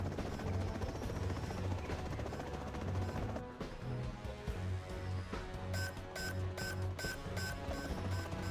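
A Chinook helicopter in the video game Rust gives a steady, loud rotor drone throughout, layered with dense game noise and a few sharp bursts, with no clear talking.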